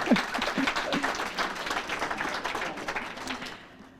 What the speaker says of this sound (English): Let's clap for them even though they can't make it today.